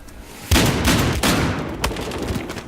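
Rapid automatic gunfire in the Battlefield Hardline multiplayer shooter, several loud bursts of quick shots with booming impacts, close and dense, no talking over it.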